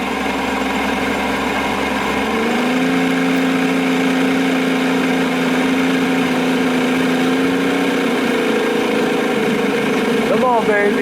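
A 1987 Johnson 70 hp outboard motor runs loud and close, first at a low idle-like drone, then climbing to a higher steady whine as it is throttled up in forward gear, with a brief rising rev near the end.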